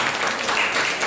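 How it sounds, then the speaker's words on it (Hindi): Brief burst of steady applause at a Sunday church service, a dense wash of clapping from the congregation filling the short moment at moderate loudness. "जोरदार ताली।"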